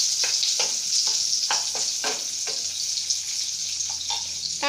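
Onions sizzling and frying in hot oil in a pan, a steady close crackling hiss with intermittent bursts of louder spatter and stirring scrapes throughout.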